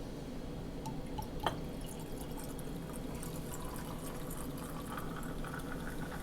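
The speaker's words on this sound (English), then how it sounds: "Then we're going to top it off with some ginger beer." Ginger beer poured into a glass over vodka and limoncello, a quiet continuous fizzing and trickling with scattered drips and bubbles, soft and steady with no speech.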